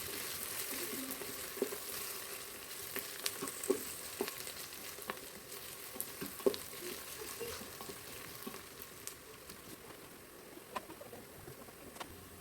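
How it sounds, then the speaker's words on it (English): Curry leaves and slit green chilies sauté in a pan for a mutton curry: a faint, continuous sizzle with scattered small pops and spoon clicks, soft and close, with no speech. "curry leaves, and saute nicely"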